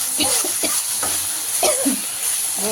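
Mint leaves fry in oil alongside gongura for an egg biryani. A close sizzle carries bursts of stirring and spatula scraping, and a faint high whine holds in the background.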